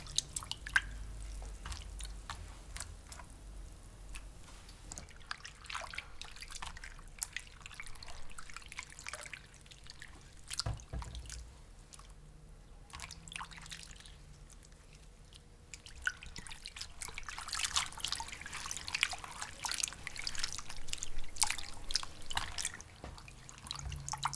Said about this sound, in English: Drain the potatoes and then transfer them to a bowl of ice water.